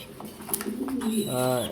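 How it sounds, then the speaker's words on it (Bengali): Red Checker pigeon of a Python line cooing close by, a soft rolling coo that swells and repeats over about two seconds, with faint background voices. "এটা হচ্ছে আমার রেড চেকার পাইথন লাইনের কবুতর"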